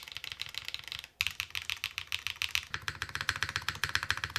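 Rapid, even keystrokes on a Fossil R2 mechanical keyboard clack close and crisp in a continuous typing rhythm, with one brief pause near the start.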